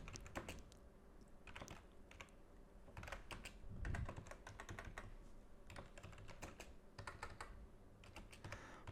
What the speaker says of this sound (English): My typing is still terrible.